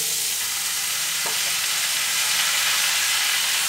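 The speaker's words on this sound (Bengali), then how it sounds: "এবার সজনে শাকটা দিয়ে একটু ভাজবো" Drumstick leaves fry in a hot pan with a constant, loud hiss of sizzling oil, with one faint tap of stirring partway through.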